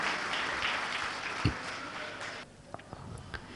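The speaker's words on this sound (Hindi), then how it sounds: "उन बच्चों के लिए तालियां बजाइए" A religious discourse audience claps for children in a dense, soft patter of applause that fades after a few seconds, leaving a few scattered claps.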